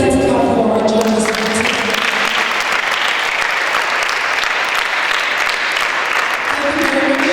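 An audience at a season opening ceremony applauds journalists with loud, sustained clapping that swells quickly and fills the room, while voices speak over the start and the end.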